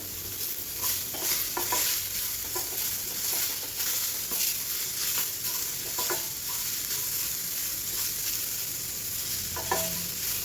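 Garlic, ginger and tomato sizzling in a hot kadhai, a dense continuous crackle with scattered stirring knocks and scrapes, close and fairly loud throughout.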